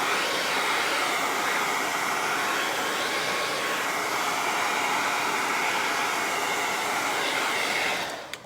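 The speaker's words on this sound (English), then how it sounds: "I'm gonna hit the blow dryer so it'll be a little loud." A handheld blow dryer runs steadily at a painting table, drying paint on a faux wood plank craft project. Its loud, even roar fills nearly the whole stretch alone, then cuts off abruptly at the end.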